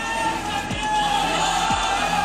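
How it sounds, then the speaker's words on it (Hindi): A street crowd chants religious slogans, a loud mass of voices raised together, with a few dull thuds underneath. "इस पर भीड़ ने धार्मिक नारे लगाए"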